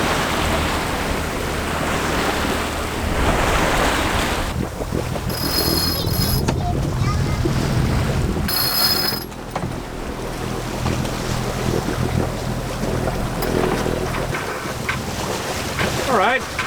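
A sailboat's engine drones steadily under heavy wind buffeting the microphone, with water and wave noise around it, in the Society Islands.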